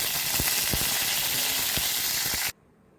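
Mustard seeds and curry leaves sizzle and crackle in hot ghee for kuruku kalan, a loud, steady hiss with a few sharp pops that cuts off abruptly near the end.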